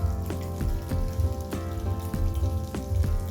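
Beef pieces frying in a pot for a homemade stew, a steady close sizzle with soft crackling pops repeating throughout, no voices.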